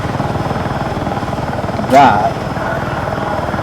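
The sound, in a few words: helicopter flying, from the video game Battlefield 6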